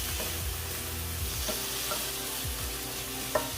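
Peppers and onions sizzle steadily in a hot pan for beef and broccoli, with repeated scraping stirs of a utensil and a small clack near the end.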